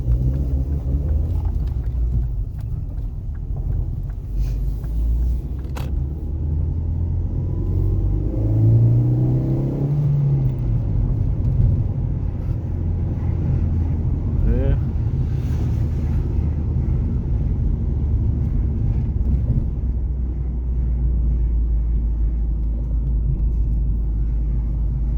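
A Ford Focus engine fitted with two throttle bodies rumbles loud and close after starting, with a rising rev swell in the middle before settling back to a steady low idle.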